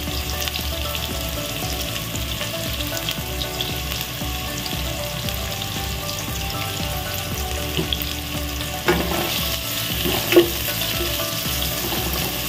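Onions and ginger fry in a pan with a steady, dense sizzle that runs unbroken throughout, plus a couple of faint utensil knocks near the end.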